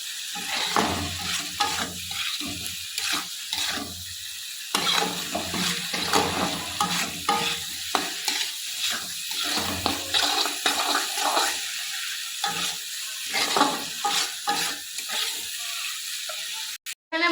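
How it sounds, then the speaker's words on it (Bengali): Spicy masala stir-fried with previously fried potatoes in a pan, a continuous close sizzle punctuated by frequent rhythmic scraping strokes of the spatula throughout. "ভেজে রাখা আলুর সাথে মশলাটা কিন্তু কষাবো আর কষাতে কষাতে আলুটা সেদ্ধ হয়ে যাবে"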